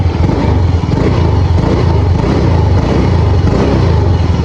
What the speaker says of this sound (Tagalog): tahimik pa ang kanyang makina mga bossing